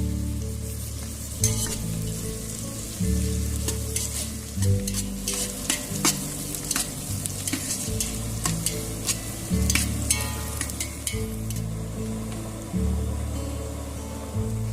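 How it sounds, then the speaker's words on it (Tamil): Sliced onions and green chillies sauté in hot oil for a traditionally made country chicken biryani, giving a loud, steady sizzle broken by repeated scraping stirs close by. "வெட்டி வச்சிருக்க 6 வெங்காயத்தை சேர்த்துக்கிட்டு அதோட 10 பச்சை மிளகாவையும் ஆட் பண்ணிட்டு நல்லா வதக்கிக்கோங்க"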